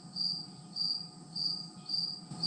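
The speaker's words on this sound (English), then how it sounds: "is the loudest cricket in the tri-state area" A single cricket chirps loudly and close by in regular bursts, about four trills in quick succession, over a faint low background hum.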